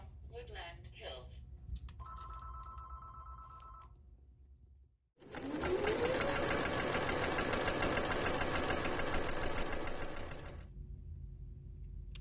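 A sewing machine stitching a pillowcase runs in one long, loud, rapid mechanical whirr for about five seconds, preceded by someone talking and a short ringing tone, with a brief pause just before it starts.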